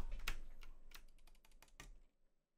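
Computer keyboard keys clacking in quick irregular bursts during a League of Legends session, close and fairly quiet, fading out near the end with no talk.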